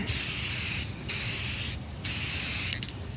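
Three bursts of a spray paint can spraying wooden furniture, each a steady close hiss lasting about a second, separated by short pauses.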